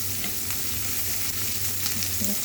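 Onion, garlic and ginger frying in a pan, a dense, close sizzle with brief stirring noises over a steady hiss.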